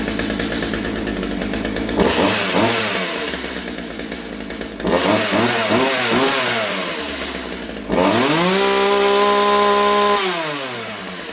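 A two-stroke chainsaw engine fires up after a choke pull, then runs loud and close with repeated revving surges, sputtering idle dips between bursts and a final sustained high rev before settling.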